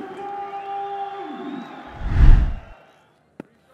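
A cricket crowd at a Test match in Rawalpindi, Pakistan versus South Africa, swelling into a short loud cheer that peaks and fades, over steady broadcast background tones, ending with a single sharp knock.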